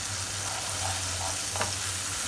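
Ginger paste frying in a pan for an eggplant curry, giving a dense, even sizzle with one brief scrape of stirring partway through; close and steady, with no one speaking.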